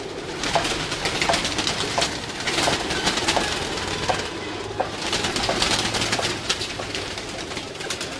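Domestic pigeons on a rooftop coo continuously amid a dense wash of wingbeats and flock noise, loud and close as the birds head up into a net.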